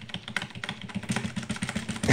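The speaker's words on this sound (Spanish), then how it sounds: "Van a escuchar el teclado que está." Rapid, dense clatter of keys on a computer keyboard during a GTA San Andreas game session, heard close up with irregular bursts of clicks and a heavier thump near the end.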